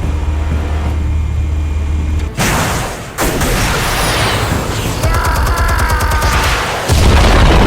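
Explosions in Batman: The Telltale Series, with a sustained loud roar, a sharp blast with a brief drop-out, and a continuing rumble joined by rattling debris, all at close range.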